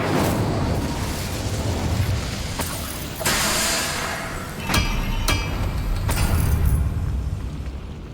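Fire spell blasts in Hogwarts Legacy: a series of sharp bursts and whooshing flares over a loud, roaring combat din, several impacts spaced a second or two apart with no talking.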